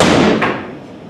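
A door slammed hard, struck with enough force to break it: one loud, close, heavy thud whose boom fades away over about a second, with no voices.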